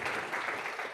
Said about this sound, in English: another round of applause to Professor Heckman for being on time